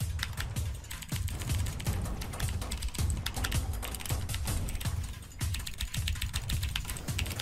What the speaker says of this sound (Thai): ได้ยินเสียงฝัดคีย์บอร์ดไหมครับ